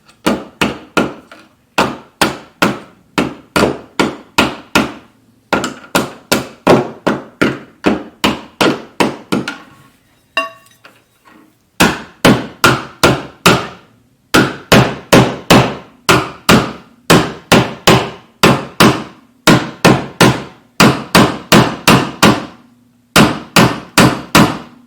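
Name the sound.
hammer tapping a GFCI outlet into place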